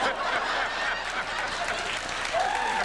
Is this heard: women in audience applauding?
yes